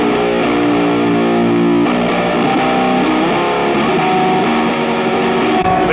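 A heavily distorted electric guitar through a ZVEX Fuzz Factory pedal plays sustained, buzzing fuzz-drenched chords continuously and loudly for several seconds, with no voices.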